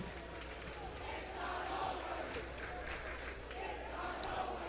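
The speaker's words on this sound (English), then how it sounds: "this Rams crowd really letting us know that, yeah, it's not over" A high school hockey crowd of Rams supporters cheering and yelling in an arena, a sustained roar of many voices with scattered shouts, moderately distant and steady throughout.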